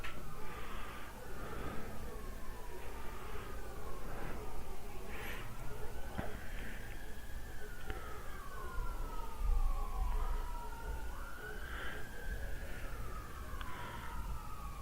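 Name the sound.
emergency vehicle sirens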